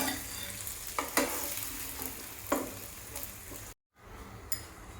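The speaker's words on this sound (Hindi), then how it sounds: "टिके रिफाइन तेल टिके बटर दे दीचे। आइना पनीर टा दे देमा।" Paneer fries in a pan of refined oil and butter while it is being made for palak paneer. A continuous close hiss of sizzling is broken by a few sharp scrapes and taps of stirring. The sizzle cuts out briefly near the end.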